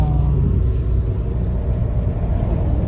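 A car driving through rain in Portugal, heard from inside the cabin as a loud, constant low rumble of engine and road noise with a steady wash of rain hiss.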